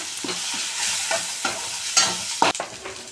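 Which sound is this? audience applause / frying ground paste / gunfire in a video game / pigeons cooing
frying ground paste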